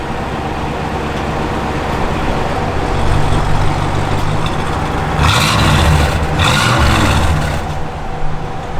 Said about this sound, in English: Good sounding exhaust.